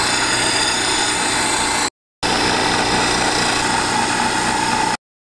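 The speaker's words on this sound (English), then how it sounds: "the angle grinder did a pretty good job of getting a lot of material off in a hurry" An angle grinder grinds down a metal bar to shape a small pry bar. The whine is loud and steady, cuts off briefly, then resumes before stopping.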